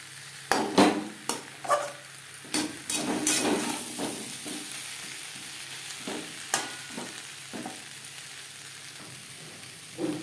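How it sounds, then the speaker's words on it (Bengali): Taro and rohu fish curry stirred in a pan over a high-to-medium gas flame: a run of sharp spatula knocks and scrapes over a low background sizzle, easing off toward the end. "গ্যাসের ফ্লেমটাকে হাইতে করে দেব হাই টু মিডিয়াম ফ্লেমে তিন চার মিনিট নাড়াচাড়া করে নেব"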